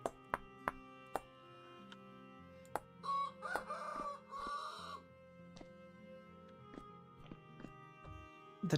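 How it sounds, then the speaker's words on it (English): Chickens in the video game Vintage Story give a series of sharp clucks and a short rooster crow in the middle, fairly quiet and clean, with scattered pecking clicks around them and no speech. "The chickens are coming."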